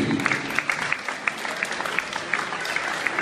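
A crowd at an agricultural fair in Beaumont-de-Lomagne applauds a braiding contestant with a thick, continuous round of clapping. Distinct sharp claps stand out at a regular beat, and faint crowd murmur sits underneath.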